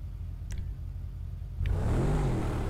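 A car engine in Grand Theft Auto V, just given an engine upgrade, is faint at first with a brief blip, then swells into a loud, sustained rev that holds to the end.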